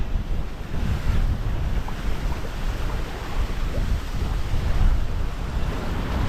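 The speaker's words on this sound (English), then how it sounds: "On a very, very windy day" Strong wind roars steadily over a pond bank, low and rumbling, with gusts buffeting the microphone throughout; no voices.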